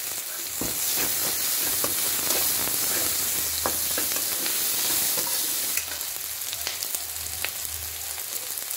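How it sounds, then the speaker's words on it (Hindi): Green chilies sizzle and crackle as they fry with broccoli sabzi in a pan, a steady close hiss with scattered pops and light scraping stirs, and the fizz rises sharply at one point midway. "अब हम इसमें हरी मिर्ची डाल देंगे"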